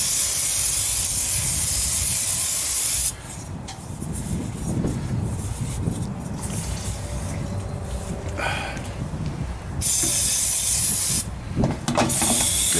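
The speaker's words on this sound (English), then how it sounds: "But we have our ever-present brake cleaner." Brake cleaner sprays into an oil bath air filter with a loud, close, continuous hiss that eases off and changes tone partway through, then returns at full force.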